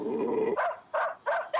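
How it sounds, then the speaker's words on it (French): A cartoon dog lets out a low, rumbling growl, then three quick, sharp barks in steady succession, close and clear with no talk. "Tiens, oh le beau toutou"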